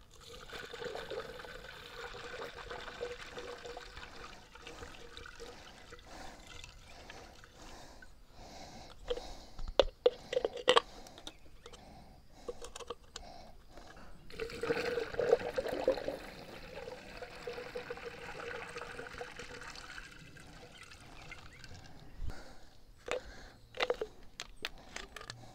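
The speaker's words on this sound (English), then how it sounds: "Now to this I'm going to add some hot water halfway." Hot water poured from a tap into a container of sugar while mixing honey bee feed, a faint steady trickle and gurgle with some clanks and splashes partway through.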